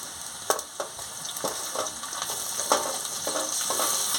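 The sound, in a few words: frying spices with coriander, cumin, dried chili, ginger, tomato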